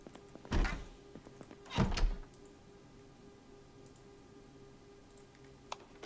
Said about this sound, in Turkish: Kapıyı parçala.